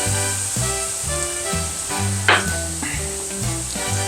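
Butter sizzles in a hot pan alongside chicken thighs, peppers, onions and garlic for keto chicken Marsala, a constant close frying hiss with one short sharp spurt midway; no talking.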